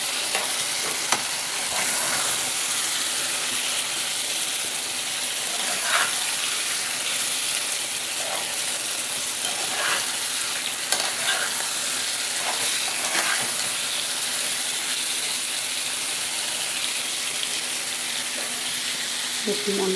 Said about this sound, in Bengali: মাংসটা আরেকটু কষিয়ে নেব।